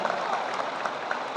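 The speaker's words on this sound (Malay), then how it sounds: "Kita berikan tepukan yang gemuruh kepada pihak penganjur." An audience at a Malay Islamic religious talk gives the organisers a round of applause, a soft, fairly distant patter of clapping with small recurring swells.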